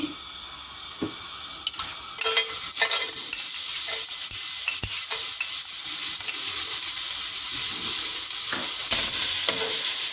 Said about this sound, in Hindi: ऑयल में 1 टेबलस्पून चॉप्ड लहसुन ऐड करूंगी।